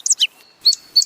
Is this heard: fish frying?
no